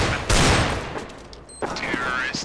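A loud burst of rapid gunfire from a Counter-Strike: Global Offensive match, a dense volley that fades, then a shorter sharp shot with a metallic clink, all close and without talk.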